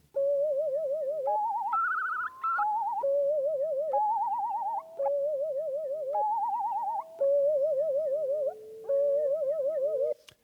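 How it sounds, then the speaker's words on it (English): A curlew calls in warbling, trilled whistles that rise and fall in repeated phrases with steady rhythm, clear and fairly loud, with no voices. "This is a curlew. These are all endangered birdsong."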